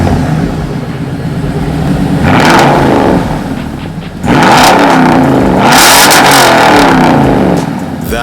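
A 2014 Toyota Tundra Platinum CrewMax with Carven R-Series mufflers revs its engine in two loud bursts, the deep exhaust note climbing and falling close by, with no talk.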